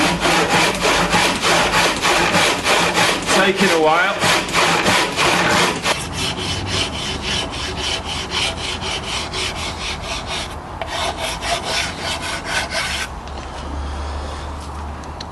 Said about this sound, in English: Now I'm just trimming it down to 2 inches in width, so I'm sawing the two sides off it.